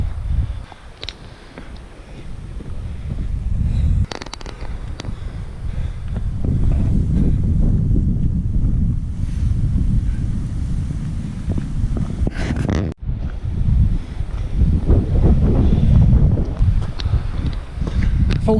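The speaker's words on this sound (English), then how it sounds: "Wind has really started to pick up." Wind blows on Snowdon's Miners' track, a strong steady low roar buffeting the microphone, swelling in gusts and staying loud throughout with no talk over it.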